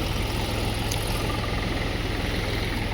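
A tractor runs beside a canal fed from the Dholi Dhaja dam near Surendranagar, giving a steady, close, low diesel rumble that throbs evenly throughout with no pause.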